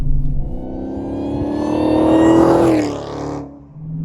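A Dodge Hellcat accelerates hard, its supercharged engine roaring loud and close as the pitch climbs steadily, then peaks and drops off sharply as the car sweeps away.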